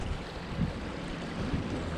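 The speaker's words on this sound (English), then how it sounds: "The river is flowing, flowing and growing." A river at Great Falls rushes along in a steady, broadband wash, fairly soft and distant, with faint gusts of wind buffeting the microphone.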